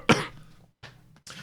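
A person coughing close by, one sharp harsh cough followed by two softer throaty bursts in quick succession.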